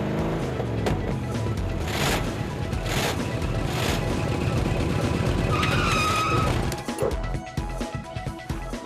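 A limousine pulls up with a long, loud tire skid and engine roar that dominates before easing off into scattered clatter at the end.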